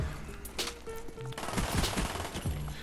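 Rapid bursts of Uzi submachine gun fire in a first-person shooter video game come as sharp automatic volleys, close and loud, with no talk over them.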